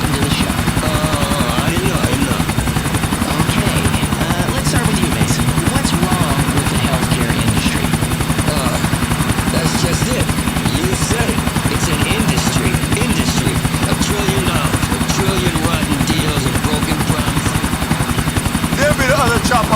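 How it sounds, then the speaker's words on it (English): A helicopter in an action video game thrums steadily and loudly for the whole stretch, its rotor chop constant under talking voices. "another chopper"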